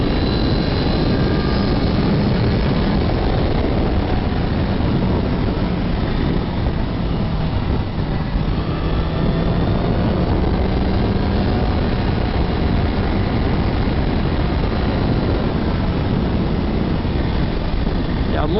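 A 2018 Honda CBR650F inline-four motorcycle drones steadily under way on winding roads, a continuous engine hum blended with heavy wind rush, constant in level throughout.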